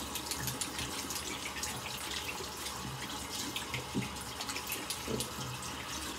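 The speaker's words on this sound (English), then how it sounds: "we're washing our hands out because this particular product is a little gummy" Water runs steadily from a tap as hands are rinsed to wash out a gummy, tacky curl activator product, a continuous close splashing flow with faint irregular bumps from hand movement and no talking.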